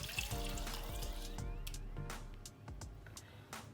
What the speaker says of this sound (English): I'll start with my garden eggs and then add water to cook it